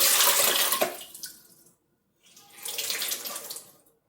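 A wet cloth is twisted over a kitchen sink, sending two close bursts of splashing, pattering water into the basin with a short silent pause between them.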